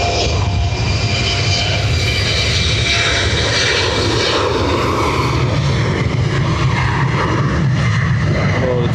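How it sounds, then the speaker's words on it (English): British Airways Airbus A380 jet engines, a loud, close, sustained roar with deep rumble and a shifting whine layered on top, continuous across the whole stretch. "So now just watching the 380"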